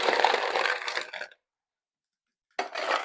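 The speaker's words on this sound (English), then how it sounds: "And then we're going to add ice." Ice cubes clatter and crunch loudly into a cocktail shaker in two bursts separated by a short silence.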